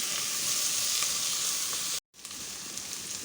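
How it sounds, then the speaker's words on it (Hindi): Chicken and noodles for chow mein stir-frying in a hot wok make a loud, dense, close sizzle that breaks off abruptly for a moment, then resumes a little quieter. "अब चिकन को नूडल्स को मिक्स कर लेते हैं।"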